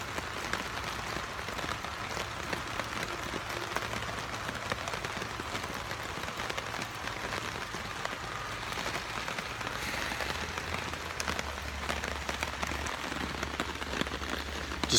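Steady rain pattering on a hammock tarp at a campsite in New York's Hudson Valley, a dense, even hiss of close drops lasting throughout with no talk.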